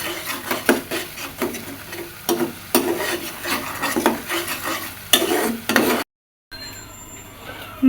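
A spice paste with chili powder sizzles in a pan while a spoon stirs it, giving repeated scraping and clinking strokes over a frying hiss. The sound cuts out briefly near the end, then returns faintly.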